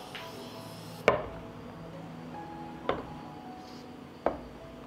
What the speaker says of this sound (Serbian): sada ćemo izvaditi tegle iz šerpe